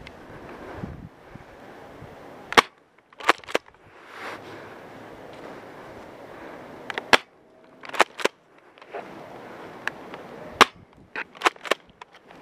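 Airsoft guns firing during an outdoor skirmish at RAF Honiley, scattered sharp cracks in single shots and quick pairs and bursts over steady wind noise, some loud and close, others softer.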